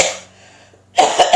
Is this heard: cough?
yes